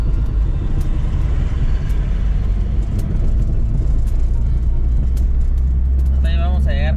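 A car drives through a city street in Morelia, Michoacán, with a steady interior rumble and road noise throughout and a voice briefly heard near the end.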